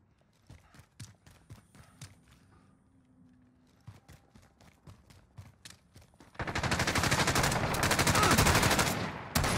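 Gunfire from the video game Call of Duty Modern Warfare, first as single sharp shots with footsteps between them, then a loud, dense burst of continuous automatic fire for the last few seconds.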